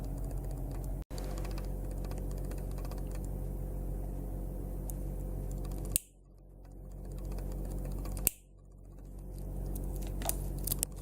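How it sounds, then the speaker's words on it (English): Cutters snip plastic zip ties off a bicycle's cadence sensor magnet, giving two sharp snaps a couple of seconds apart over a quiet mechanical background, close and without talk. "I'm going to cut these zip ties that hold on to the magnet for the cadence"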